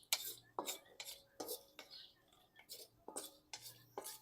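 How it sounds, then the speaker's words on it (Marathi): Cashews being lightly roasted in a pan, with a spoon or spatula repeatedly scraping and clinking against the metal in quick, irregular strokes, close and fairly quiet. "आता हे गोडंबी आपण भाजून घेऊ. जास्त गोडंबी भाजायची नाही"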